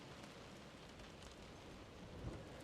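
Rain falls steadily in the video game Close to the Sun, a constant faint hiss with a soft low rumble of thunder near the end and no voices.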